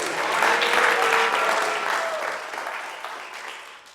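Audience applause at the Macstock conference, a broad wash of many hands clapping in a hall, swelling early then gradually fading toward the end, heard without talk.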